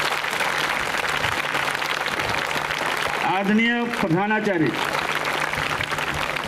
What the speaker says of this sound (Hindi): जो बेटा जब तक मंच पर नहीं आते तालियां बजती रहेंगी